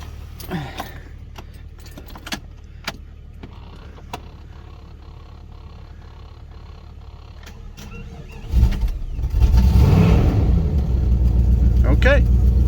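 An old Jeep with a high-mileage Chrysler 318 V8 sits amid clicks and rattles, then its starter grinds briefly and the engine catches into a loud, steady running roar close by.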